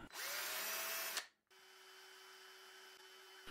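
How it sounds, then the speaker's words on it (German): Cordless drill spinning a wooden dowel blank, a loud steady whir for about a second, a brief stop, then a quieter, even motor hum with a steady tone running to the end. "Ab damit in den Akkuschrauber und los geht's."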